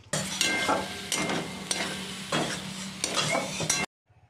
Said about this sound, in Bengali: অল্প জল দিয়ে এইভাবে নাড়াচাড়া করে যেতে হবে